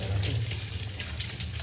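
Water pours steadily from a tap while fish are being cleaned, a continuous close splashing rush.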